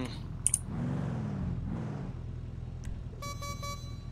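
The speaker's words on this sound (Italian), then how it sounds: "Che cazzo di clacson è questo?" A car horn toots a few times in short bursts near the end, over steady engine rumble and a brief voice.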